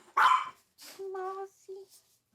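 A puppy at a breeder's gives a sharp yelp, then thin, high whimpers and whines in short bursts, close and fairly quiet.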